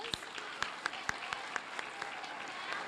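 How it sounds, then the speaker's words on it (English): A school audience at a ribbon celebration claps steadily after a chorus performance, sharp individual claps standing out over a soft, sustained wash of applause at moderate distance. "Can we give them another round of applause?"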